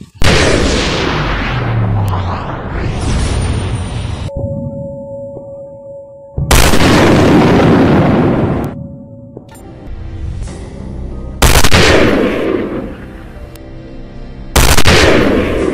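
A toy army gun plays electronic gunfire and explosion effects in several loud, close bursts with short pauses between them.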